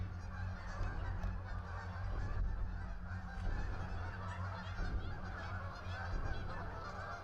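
A flock of geese honks loudly and continuously in agitated chorus outdoors near woods at night, dense overlapping calls with steady low background rumble.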